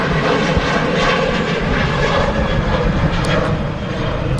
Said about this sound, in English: fast departure there from the Ryanair